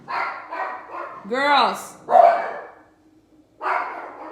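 Several dogs bark and yip in short bursts close by, with a voice speaking between and over the barking.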